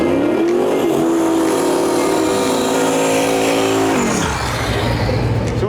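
A turbocharged LS-powered Datsun drag car makes a pass. The engine roars loudly under hard acceleration, and its pitch climbs steadily before dropping sharply at a gear change or lift, then it keeps running.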